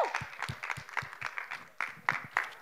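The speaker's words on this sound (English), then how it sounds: "So let's please all give Sara a huge round of applause." An audience at a COP28 storytelling event claps and cheers for a speaker, a sparse, uneven patter of individual claps that is fairly quiet and close.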